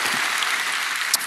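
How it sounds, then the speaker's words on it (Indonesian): A church congregation applauds in praise, a steady wash of clapping throughout at moderate level with no talk over it. "berikan tepuk tangan kita untuk Tuhan kita"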